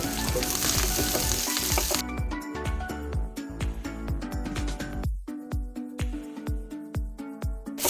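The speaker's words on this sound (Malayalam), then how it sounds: "ഇഞ്ചി ചതച്ചത് ചേർത്ത് കൊടുക്കാം പച്ചമുളകും കറിവേപ്പിലയും കൂടി ചേർത്ത് കൊടുത്ത് നന്നായിട്ടൊന്ന് വഴറ്റിയെടുക്കാം" Crushed ginger, garlic, green chilies and curry leaves sauté in hot oil for a chicken dish, a loud crackling sizzle at first, then repeated scraping stirs of a spoon against the pan in a steady rhythm.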